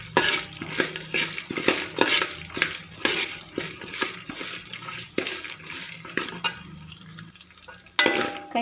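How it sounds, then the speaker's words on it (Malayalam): Cashews being stirred in a pan while making semolina upma, giving repeated scraping and clattering strokes in a steady rhythm, loud and close, with no talk. "നന്നായിട്ട് ഇളക്കി കൊടുക്കാം കേട്ടോ."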